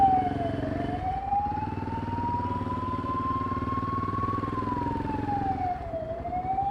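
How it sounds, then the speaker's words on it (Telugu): An ambulance siren wails steadily in traffic behind a bus, a loud, continuous tone that slowly rises and falls over a constant rumble of engines and road noise. "ఇప్పుడు వినిపించిందా భయ్యా నీకు అంబులెన్స్ సౌండ్?"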